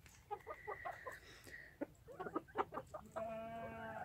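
Silkie bantam chickens on a farm cluck in short, quick bursts, with a louder sustained call near the end, heard close over low background noise.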